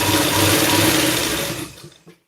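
Sewing machine stitching a blouse, a loud, close, continuous mechanical whir that runs evenly for over a second and a half, then winds down and stops with a final soft clunk.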